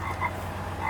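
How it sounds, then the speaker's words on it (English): A frog croak sound effect played from a hearse, a short croaking burst heard over a low steady hum. "I hear a frog,"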